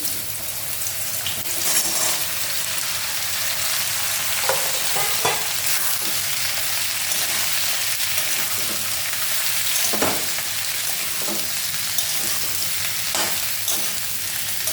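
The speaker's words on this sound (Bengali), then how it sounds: "এই দেখেন, আমি এখন লাউটা দিয়ে দিচ্ছি।" Chopped bottle gourd hits a hot pan and sizzles steadily, with a spatula stirring and scraping in irregular strokes, close and continuous.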